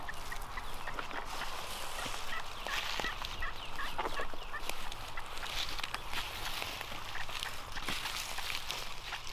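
Wild turkeys gobble faintly in the distance over steady outdoor background noise in Wisconsin during turkey hunting, with a few scattered rustles and clicks.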